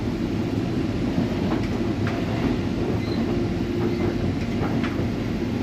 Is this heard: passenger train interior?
yes